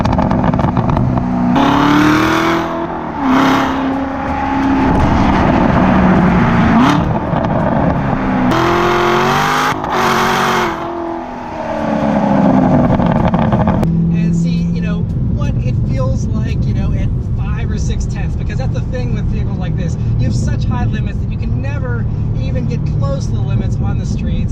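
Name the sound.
Ford Mustang GT exhaust crackles and pops while revving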